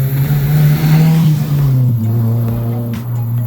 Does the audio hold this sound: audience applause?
no